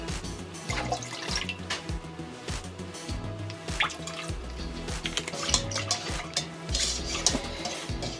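Pot on a kitchen stove being stirred, soft repeated scrapes and sloshing liquid with light clinks, close up and low in level, no speech.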